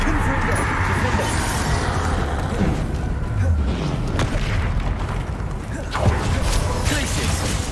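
Confringo fire spells explode with dull booms in the Hogwarts Legacy video game, several blasts going off amid combat effects under a steady bed of game noise while a voice speaks over them.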